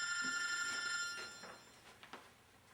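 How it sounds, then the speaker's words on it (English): A telephone ringing, a bright electronic ring with steady tones at the start that fades into softer intermittent chirps, quiet and a little distant. "Where's the telephone ringing at?"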